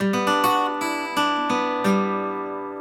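A guitar chord is picked one string at a time, slow ringing plucks rising in pitch and letting the notes sustain and fade.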